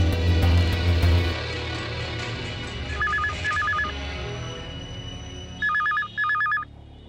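A telephone in a dramatic movie scene rings in two pairs of short electronic trilling bursts, clear and fairly loud over a low musical rumble that fades partway through, with no talk.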